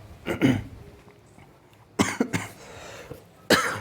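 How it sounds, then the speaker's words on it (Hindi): Several dry, close coughs come in three separate bursts with quiet room noise between them. "ये खांसी नहीं मिट रही यार,"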